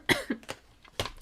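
A person coughs several times in a quick, uneven series of short, dry, close bursts, with brief pauses between and no talking.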